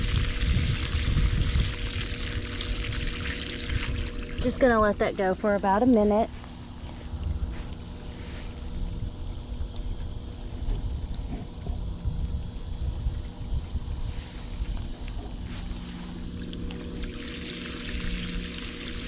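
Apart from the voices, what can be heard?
Intex sand filter pump backwashing pool water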